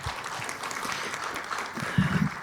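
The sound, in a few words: audience applause for the Deputy Mayor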